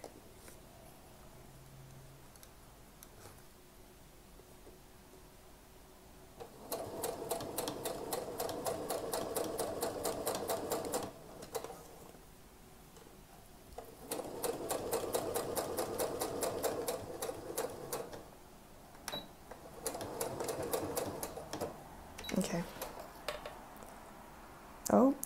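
Domestic sewing machine backstitching a wedding dress waistband, stitching in three rapid mechanical bursts of several seconds each, separated by pauses, close and clear.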